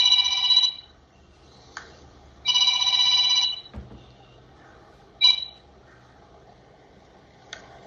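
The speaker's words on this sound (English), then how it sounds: "my phone is ringing" A telephone rings in two long electronic bursts, with a few short chirps and a soft thump between, in an otherwise quiet room.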